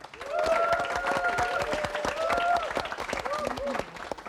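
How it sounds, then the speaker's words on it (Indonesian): An audience claps for Iyut during a television talk show, a dense burst of applause that swells and fades, with voices talking over it. "tepuk tangan buat Iyut"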